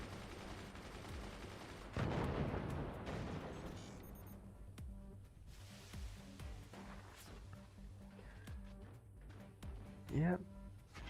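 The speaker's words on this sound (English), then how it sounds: "especially because those are heavy mortars" Heavy mortars fire in the strategy game Moonshot, a loud rumbling barrage near the start and a sharp blast near the end, with gunfire crackling under steady game noise and commentary.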